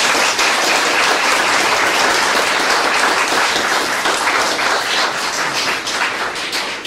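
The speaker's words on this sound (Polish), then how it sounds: "Jeszcze raz wielkie brawa dla niego za to wykonanie." Sustained audience applause at an outdoor Chopin concert following a solo piano performance, dense and steady clapping filling the whole stretch at a loud level without any speech.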